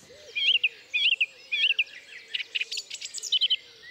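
Slowed-down recording of dawn-chorus bird song, a bird's repeated warbling phrases and chirps in quick bursts, clear and close against a quiet dark background.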